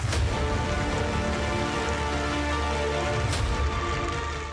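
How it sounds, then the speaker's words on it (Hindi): Heavy monsoon rain pours steadily in Almora, a dense, continuous hiss of rain hitting surfaces, loud and close, with no voices. "जिले में कभी हल्की और मध्यम बारिश तो कभी तेज बारिश का दौर देखने को मिल रहा है।"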